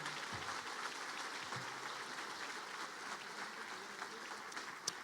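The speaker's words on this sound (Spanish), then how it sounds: "Dale este fuerte aplauso al Señor." A church congregation claps loudly and steadily in sustained applause for the Lord, a dense, even wash of hands that holds throughout with no voices over it.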